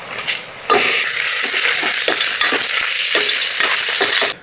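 Curry leaves hit hot oil in a pan for country chicken pepper gravy, bursting into a loud, steady sizzle after a brief quieter start, with faint stirring scrapes and clicks running through it until it cuts off abruptly.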